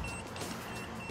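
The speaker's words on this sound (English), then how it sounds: "you can hear the alarm going off on the main module there" Tire pressure monitor alarm module in a side-by-side utility vehicle gives off a brief electronic beeping tone, faint and thin over a low background rumble, with no speech.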